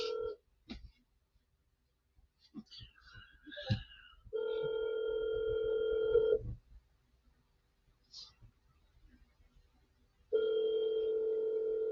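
A phone call rings out unanswered before going to voicemail, with two long steady ringback tones separated by a pause filled with scattered clicks and faint noises, all heard close over the line.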